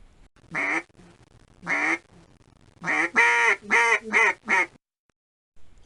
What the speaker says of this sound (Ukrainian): це качка.